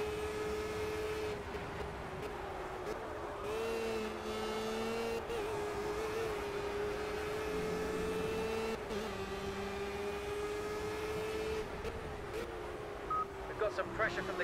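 Race car engine in the Project CARS racing game, a steady droning whine with pitch shifts as gears change, heard under continuous commentary.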